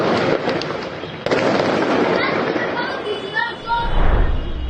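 Firecrackers burst in Beirut, Lebanon, in a dense, loud crackling barrage with sharp pops and whistling streaks, and a heavier rumbling boom near the end.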